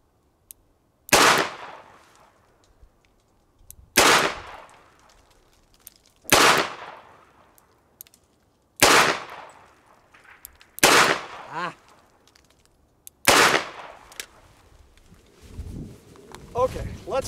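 A Smith & Wesson Model 19 revolver fires at a shooting range, six sharp, loud shots spaced a few seconds apart, each with a short decaying tail, over quiet outdoor background.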